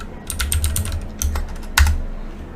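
Rapid keystrokes on a computer keyboard while entering a terminal command, a quick burst of clicks, a pause, then a final firm press, close and clear.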